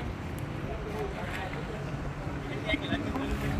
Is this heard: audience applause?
no